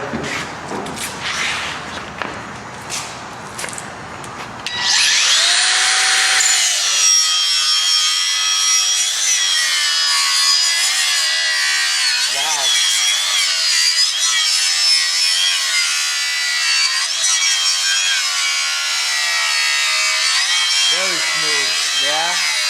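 A Metabo angle grinder bites into material with a loud, steady high-pitched whine and grinding rasp, preceded by a few seconds of quieter handling and a person speaking.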